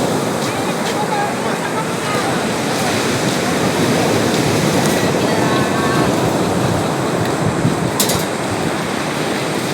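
Strong sea waves surge and wash onto a shore in a continuous loud roar with a steady broadband rumble. Faint voices and brief sharp sounds occasionally cut through the surf.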